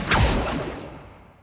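A spell cast in Hogwarts Legacy, the Accio summoning charm, gives a single loud whoosh that swells at once and then trails off smoothly over about a second, alone with no talking.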